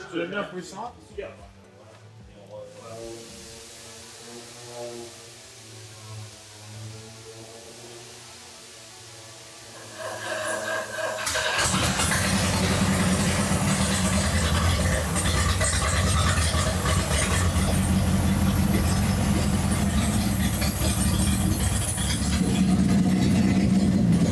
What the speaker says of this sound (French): en premier temps, redémarrage moteur